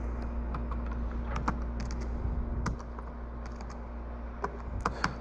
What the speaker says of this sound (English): this laptop's new to me, so I'm not as good at typing on it